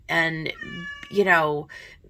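A house cat meows twice in quick succession, loud and close indoors, with long drawn-out cries and a brief quieter call at the end.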